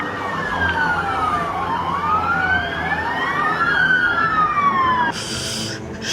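A loud police siren sound effect wails in repeated rising and falling sweeps for about five seconds, then cuts off abruptly, with no voices over it.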